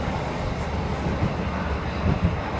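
A passenger train on the Lincoln to Peterborough line via Sleaford rumbles steadily along, with broadband rolling noise and occasional low thumps heard from inside the carriage, with no voices.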